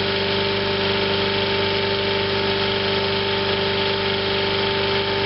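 A lawnmower engine runs steadily at a constant idle to burn off the last of its fuel before winter storage, a loud, even, droning hum with no change in pitch.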